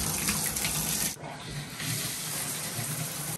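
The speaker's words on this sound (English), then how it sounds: "Show you the shower is working." A bathroom shower runs in a steady, loud hiss of spraying water, dipping briefly as the flow shifts before resuming at full strength, with no voices.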